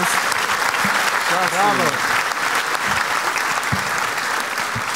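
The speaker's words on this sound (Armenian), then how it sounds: "Ժողովուրդ, մենք խնդրում ենք իրոք ծափարենք այս մարդկանց" Sustained audience applause on a women's TV show fills the scene from start to finish, dense and steady, with a voice speaking briefly over the clapping.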